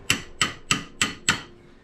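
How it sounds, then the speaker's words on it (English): A hammer strikes a part on a BMW Z3 engine five times in an even rhythm. Each blow is a sharp, close metallic knock, and a short quiet follows the last one. "We just want to hit it with the hammer as hard."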